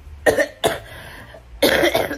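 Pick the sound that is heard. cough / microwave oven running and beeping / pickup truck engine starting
cough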